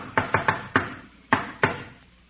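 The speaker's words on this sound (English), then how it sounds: "Chester, that's Sidney Monahan's knock" A visitor knocks on a door in a 1946 radio comedy: a quick cluster of four raps, a fifth after a short pause, then two more, crisp and close with no talking.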